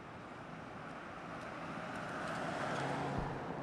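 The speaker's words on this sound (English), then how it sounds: "the rush of cars make it seem like Greenville has completely turned around" City traffic in Greenville, with a continuous broadband rush of passing cars that swells slightly toward the end and carries a few faint clicks, moderately distant and without speech.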